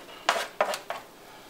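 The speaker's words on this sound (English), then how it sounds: "the rest of these veggies I'm just going to stick in here" Chopped vegetables tipped into a pot of homemade marinara sauce, landing in three separate clattering drops spaced about a third of a second apart, close up with no talking.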